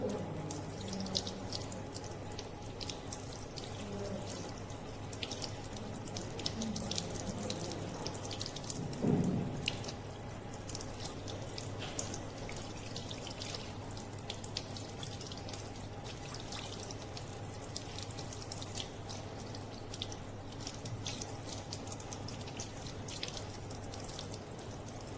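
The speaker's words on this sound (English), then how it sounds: "under the tap water." Tap water running over a test tube in a lab sink, a steady, moderately quiet stream with faint drips and a brief splashier surge partway through, no talking.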